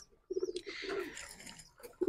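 Slate-grey pigeons in a home loft, a pair with two chicks, give low, throaty coos in short bursts close by, with light rustling between them.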